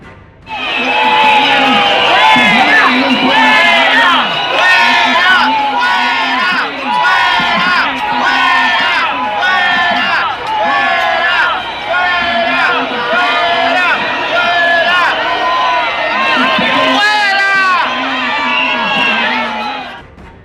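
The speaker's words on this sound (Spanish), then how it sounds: "ese grito de fuera, fuera, fue contra Henry Ramos Alup" A large crowd at a political rally stage chants "fuera, fuera" in loud, rhythmic unison. The shouting goes on steadily for the whole stretch, mixed with cheers and whoops.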